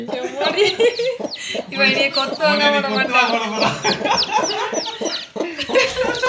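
Loud, busy clucking and agitated squawking from a hen close by, with thin high peeping of chicks mixed in, continuous and excited.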